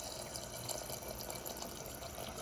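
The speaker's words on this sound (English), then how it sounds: "While the pot is filling up with water" Water runs steadily from a kitchen tap into a pot of baby carrots, a constant broadband rush with no pauses or voices throughout.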